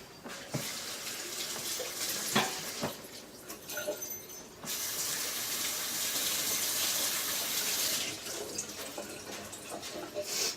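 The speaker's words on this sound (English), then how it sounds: "I need to wash my hands." Tap water runs steadily into a sink as hands are washed during flatbread making at home, a continuous hiss with brief breaks and small clatters, loud and close.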